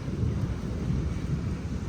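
Thunder rumbles steadily with rain falling on a Diwali evening in Kalyan, a dense low roar that fills the short stretch without letup and with no voices.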